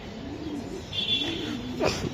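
Racing pigeons coo softly in a loft, a low murmuring coo repeating over steady background hum, with a brief sharper chirp near the end.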